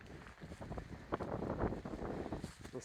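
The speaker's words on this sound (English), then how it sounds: "Just a little bit windy." Wind gusting across the microphone at a mountain lake on a wet, rainy day, a steady broadband rumble with rising and falling surges throughout and no voices.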